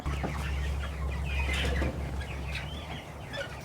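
Chickens clucking inside a coop, a close, busy chorus of overlapping clucks and chirps with brief wing flaps over a steady low hum.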